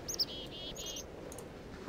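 A faint seagull calling outside, a few brief high cries at the start, then several thin drawn-out calls against a quiet background.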